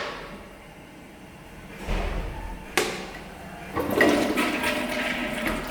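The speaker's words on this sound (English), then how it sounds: "Look at that flush. How pathetic it is." A Glacier Bay dual-flush toilet flushes: a quiet lead-in, a thump near two seconds, a sharp clack, then a loud rushing, gurgling swirl of water that holds steady to the end.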